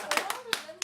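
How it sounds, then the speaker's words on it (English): A few scattered hand claps from a group of people, irregular and close, mixed with voices during a sing-along of a clapping dance song. "Everybody clap your hands."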